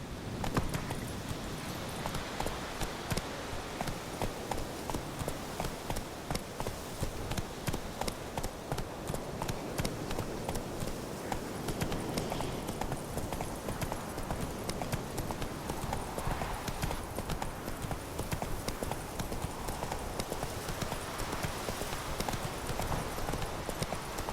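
Horse hooves gallop in The Witcher 3 game with a rapid, steady clip-clop rhythm that runs loud and continuous throughout, under a dense ambient wash.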